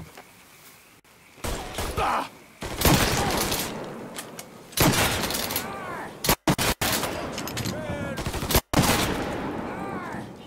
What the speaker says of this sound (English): Fucker won't stop shooting!